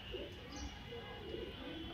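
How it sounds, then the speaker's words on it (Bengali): A newly released Makhra pigeon coos among a flock of other pigeons, soft low throaty coos repeating at a steady pace, quiet and close, with faint background sounds. "দেখুন কবুতরটা ডাকে কিভাবে"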